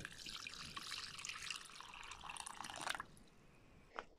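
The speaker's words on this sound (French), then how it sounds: "Je remplis d'eau osmosée et je vais refermer tout ça." Osmosis water runs into a container, a steady broadband pour lasting about three seconds before cutting off, followed by a single faint drip.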